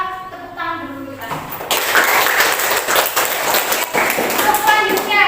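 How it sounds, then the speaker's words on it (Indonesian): Class audience clapping hands in a room, a dense burst of applause that starts after a short stretch of music, fades slightly and then briefly picks up again toward the end. "Oke, kita tepuk tangan dulu kita."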